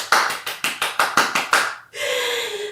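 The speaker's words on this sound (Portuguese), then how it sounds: "E quem gostou da história pode bater palmas" A few people clap after a children's story is read aloud at a school literary event, about eight sharp, evenly spaced claps close by, then a steady hiss-like tone takes over.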